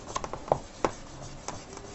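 Very fine sandpaper rubs to clean a part on a variable-voltage symmetrical power supply project, giving a few short scratchy strokes in quick irregular succession, close and fairly quiet.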